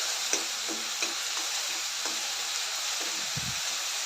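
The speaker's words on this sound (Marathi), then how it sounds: "हळद घालून सर्व मिक्स करून घेऊया व्यवस्थित" Onion-tomato masala with a half spoon of turmeric stirred in a pan for snake gourd bhaji: a soft, steady sizzle with a few light spoon taps and scrapes against the pan, close by and with no voices.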